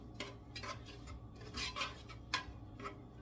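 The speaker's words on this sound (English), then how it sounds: "I'm going to go ahead and stir this up because it's still sauteing pretty well" Chili sautéing in a pan is stirred with a utensil, giving soft, irregular scraping and rubbing strokes, quiet and close.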